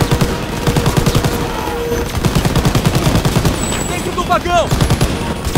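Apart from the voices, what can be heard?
machine gun fire in video game Call of Duty WWII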